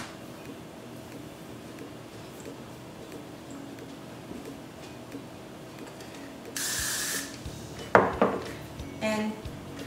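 A short hiss from an aerosol can of hair spray bursts out for about a second over quiet room noise, followed by a few clinks and light handling sounds.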